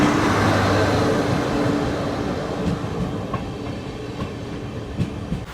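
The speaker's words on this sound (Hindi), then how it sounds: "चलो अभी स्पीड अप हो रही है ट्रेन गुवाहाटी से" Passenger train pulling away from Guwahati and gathering speed, a loud steady rumble and rolling noise from inside the coach with faint rhythmic wheel clicks emerging as it accelerates.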